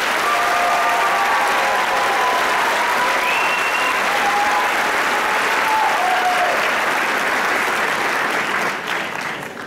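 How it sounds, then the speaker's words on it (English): Sustained, loud audience applause in a gymnasium-style hall at the 2017 Bunn High School graduation, a dense, even roar of many hands with faint cheers and whistles, easing off near the end. "Let's give them a round of applause."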